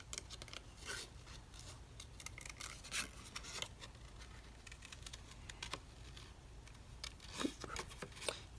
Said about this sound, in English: I'm going to just fuzzy cut this right now